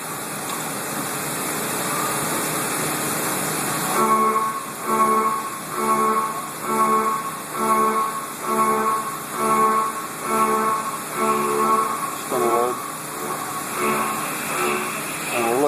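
A CNC high feed mill cuts metal at 4,300 RPM and 600 inches per minute with a 60-thousandths depth of cut. A constant high whine carries a regular pulsing chatter as the cutter makes repeated passes.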